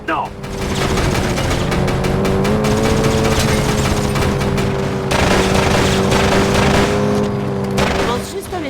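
Rapid bursts of gunfire crackle in the Pursuit Force video game over a steady engine hum, shots peppering the mix in dense volleys with a short lull midway.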